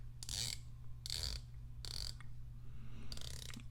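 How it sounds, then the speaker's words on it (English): Squale 1521 Onda Laguna watch bezel being turned, four short crisp ratcheting bursts of clicks spaced about a second apart, very close and quiet over a low hum. "And I love the bezel. It's so very simple to make. And a solid click."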